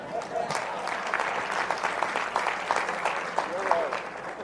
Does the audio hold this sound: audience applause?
yes